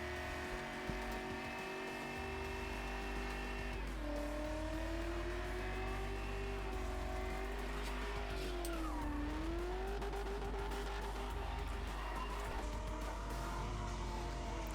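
Old BMW 5 Series spinning donuts, engine revving hard and steady with long rising and falling pitch sweeps, tires squealing continuously throughout, loud and close with no talk over it.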